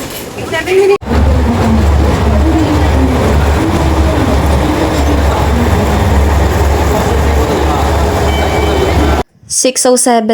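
Loud, rumbling train noise as a train arrives at Beppu Station, Japan, rolling steadily for several seconds, with a brief voice at the start and end.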